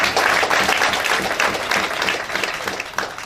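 Sustained applause from a seated audience at a motivational business meeting, dense and steady throughout, fairly loud and close, with no voices over it.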